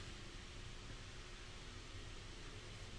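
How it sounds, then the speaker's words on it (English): A laptop fan roaring hard under heavy load during a live stream, a steady broadband hiss with no variation, faint and constant throughout. "the laptop fan is just going nuts, trying to keep up with Landmark"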